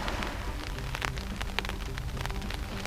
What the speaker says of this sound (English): that's the rain coming down now.